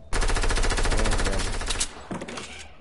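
Rapid automatic gunfire in a shooter video game, a loud sustained burst of closely spaced shots that breaks off and resumes in shorter bursts, with no talking over it.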